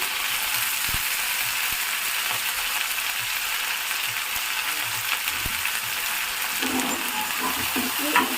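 Okra and potato pieces fry in a pan with a constant, close sizzling hiss, and faint scraping and stirring clicks come through underneath.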